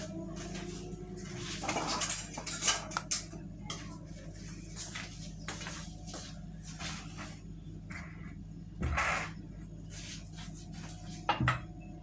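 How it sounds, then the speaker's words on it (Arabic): A whisk stirs chocolate sponge cake batter in a bowl, giving faint, irregular scraping and soft clinks against a low background hum, with a few louder scrapes near the end. "هقلب بقى بالويسك كده عشان كل الخليط يختلط ببعضه"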